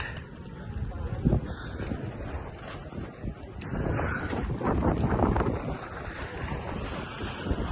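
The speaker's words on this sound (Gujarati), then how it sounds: "ખાલી પવન બહુ છે." Strong gusty wind at high-altitude Rohtang Pass buffets the microphone with a steady roar that swells and falls, loudest in the middle stretch, with no voices.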